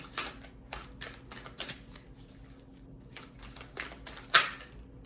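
Tarot cards flipped over one after another on a table, a string of soft, crisp flicks and light taps at irregular intervals, close and quiet, with one sharper snap near the end and no talk.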